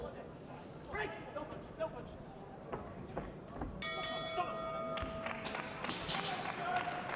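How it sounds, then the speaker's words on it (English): A ringside bell in a professional boxing match clangs to end the round, its ringing tone cutting through the crowd noise halfway in while a commentator keeps talking. "So the bell goes for the end of the second round, and Jamie Cox wanders back to his corner."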